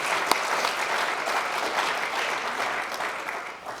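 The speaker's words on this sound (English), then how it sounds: "give a big hand of applause for Andrew" An audience at a chamber of commerce installation ceremony claps steadily for several seconds, a dense and fairly close round of applause with no voices over it.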